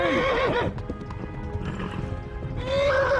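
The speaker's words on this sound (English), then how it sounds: "The horse is nearly out of stamina." A horse gallops hard in the medieval game Kingdom Come: Deliverance while nearly out of stamina, with steady close hoofbeats and loud whinnies at the start and again near the end.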